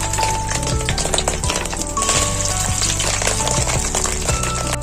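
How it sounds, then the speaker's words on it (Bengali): Loud, busy sizzling of fish roe frying in hot oil in a wok, with crackling pops and occasional metallic clinks of the pan throughout. "এই কড়াই তেল দিয়ে দিয়েছি, এই তেলটা ডিমগুলো ছেড়ে দিচ্ছি"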